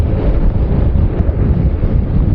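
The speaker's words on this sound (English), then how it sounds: "It is super cold and super windy right now." Strong, cold winter wind buffets the microphone outdoors in New York City, a constant loud low rumble with gusty fluctuations and no speech.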